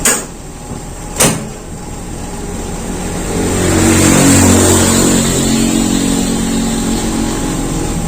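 A motorcycle engine, still cold, idles with a couple of sharp knocks before rising into a throttle rev that holds steady, rough and close, with no talking.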